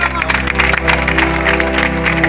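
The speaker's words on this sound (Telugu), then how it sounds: "అందరం చప్పట్లు." Congregation applauding at a church dedication ribbon cutting, a dense, loud burst of clapping over a steady low hum, with faint crowd murmur mixed in.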